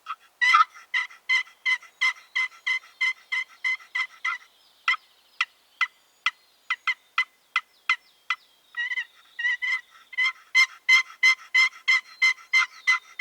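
Rapid bursts of raspy turkey yelps and clucks from a Primos friction box call, in quick rhythmic runs with short pauses, close and clear.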